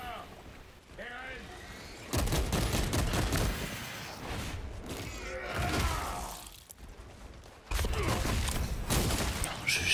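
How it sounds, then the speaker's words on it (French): Auto bolter fire in Warhammer 40K: Space Marine 2, dense rapid bursts of heavy automatic shots in several long volleys with short pauses between, loud and close, with someone talking over parts of it. "Tirer au bolter auto de loin"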